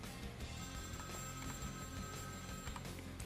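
A telephone rings in Vampire: The Masquerade - Bloodlines, a sustained electronic ring tone held for about two seconds over a dense, noisy game background.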